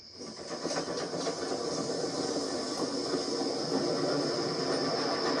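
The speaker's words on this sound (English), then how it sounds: "And with that, Stepney puffed away." Steam locomotive pulling away along a railway line, a steady broadband hiss and rumble with faint rhythmic puffing that holds at a constant, fairly close level throughout, with no voices.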